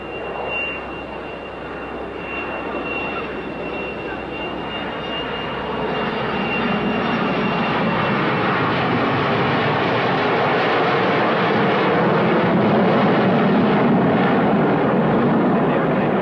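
An airliner flies past at the 1986 Leicester airshow, and its engines make a broad, steady roar. The roar swells gradually as the aircraft draws nearer and stays loud through the end.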